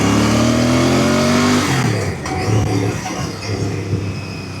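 Royal Enfield Bear 650 parallel-twin motorcycle engine, loud and close, revving high then dropping back to a lower, steady idle-like throb with no talking.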